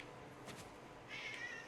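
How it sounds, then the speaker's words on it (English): A cat in the video game Ghost of Tsushima gives a single short, clear meow near the end, over a quiet background. "This is a very meowy cat here."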